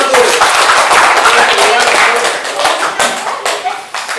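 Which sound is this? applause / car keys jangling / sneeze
applause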